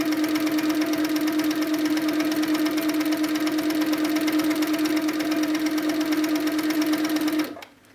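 A Handi Quilter Sweet Sixteen sewing machine stitches steadily with its tension loosened, giving a loud, even mechanical whir with a rapid needle rhythm that runs for about seven seconds and then stops abruptly.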